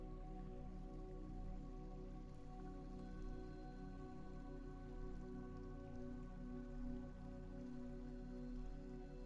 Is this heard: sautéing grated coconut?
no